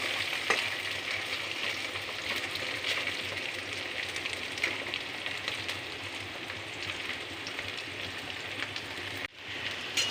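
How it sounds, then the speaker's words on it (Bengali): Steady, dense sizzling of taro and onion frying in oil, close by and continuous, with a brief break near the end. "পেঁয়াজটা কচুটা মিশিয়ে একসাথে ভাজতে হবে"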